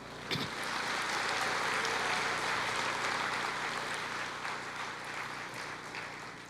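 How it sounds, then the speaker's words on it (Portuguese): Congregation applauding during a church service, a steady, moderately distant wash of many hands clapping that holds evenly throughout with no speech over it. "pode aplaudir o Senhor?"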